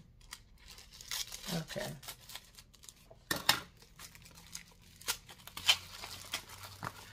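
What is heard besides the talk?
scissors cutting packaging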